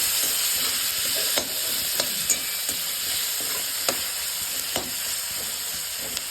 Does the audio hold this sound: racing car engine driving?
no